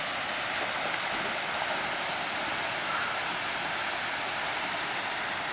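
Waterfall at Stonewall Falls, heard up close as a steady, dense roar of rushing water that continues evenly throughout, with nothing else audible.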